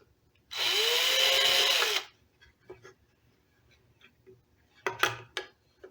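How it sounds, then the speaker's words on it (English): A power drill whirs loudly for about a second and a half through pre-drilled holes in a bass guitar build, spinning up and down, followed by a few light clicks and taps. "I'm just going to go right through the already drilled holes"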